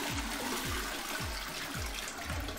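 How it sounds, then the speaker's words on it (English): A Kohler toilet flushing in a hotel bathroom, a steady loud rush of water with repeated low gurgling surges through the flush. "That's a good flushing, John."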